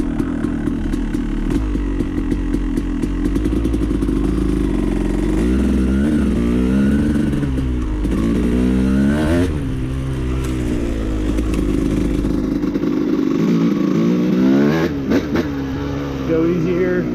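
A 2006 Yamaha YZ250 two-stroke dirt bike with an apex head, jetted rich for winter, idling and revving while warming up, loud and close with rising and falling pitch throughout.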